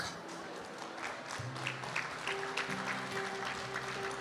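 A church congregation claps steadily in a broad wash of applause, with sustained musical tones underneath.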